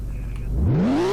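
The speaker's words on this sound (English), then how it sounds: "here's a little cold start" A sports car engine cranks and catches on a cold start, then revs up loudly with a rising whine, close and powerful.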